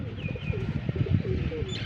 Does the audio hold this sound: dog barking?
no